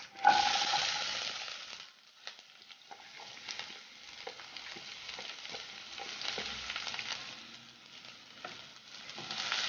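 Chopped onion and green chillies sauté in a pan with okra for Kerala-style vendakka mezhukupuratti, giving a steady close sizzle and frying hiss with occasional stirring scrapes throughout.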